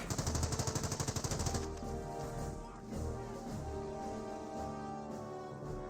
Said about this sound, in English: He also has the base MGs that provides fire support as well, so that suppression was very quick.